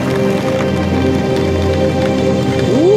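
Hard rain or hail pelting a motorcycle rider on the move, a dense, loud, continuous rattle mixed with engine and wind rumble, with tones rising near the end.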